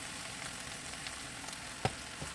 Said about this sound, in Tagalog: ilagay ang carrots at igisa din ito ng 1 minuto